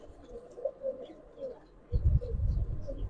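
Giribaz pigeons coo in soft, repeated low calls at close range, followed by a burst of louder low rumbling and handling noise that partly covers the birds.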